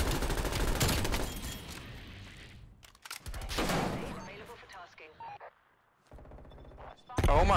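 Video game gunfire rattles in rapid automatic bursts, loud and close, broken by brief pauses, with people talking over the shooting throughout.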